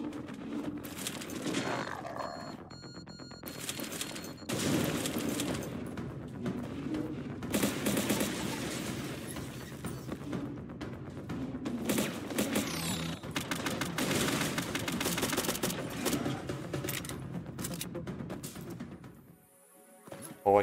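Rapid bursts of AK rifle fire in the side-scrolling shooter Zombotron Re-Boot, dense automatic volleys repeating across most of the stretch with brief gaps, loud and close, fading near the end.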